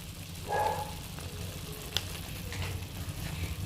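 Chilli powder and turmeric frying in oil for a winter-vegetable khichdi, a soft continuous sizzle with a light stir and a small clink partway through.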